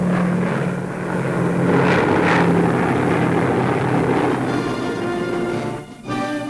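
B-29 Superfortress bombers drone overhead in a wartime newsreel, a loud continuous roar of piston engines and propellers with a steady rumble and a brief dip near the end.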